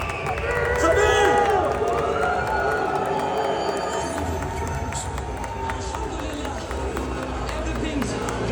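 A large arena crowd at a Khabib Nurmagomedov event roars in a dense, continuous wash of cheering and shouting, loudest near the start and holding steady throughout.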